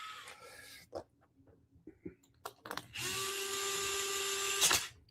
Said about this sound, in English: DeWalt driver for the win, y'all.